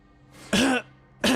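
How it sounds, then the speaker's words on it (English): Two short, harsh coughs sound close to the microphone, a brief pause between them, with no talk around them. "Had to cough twice there."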